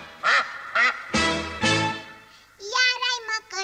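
A person imitates a duck in a 1975 Romanian film, giving several loud nasal quacking calls in a rhythmic burst, with a voice sounding before them.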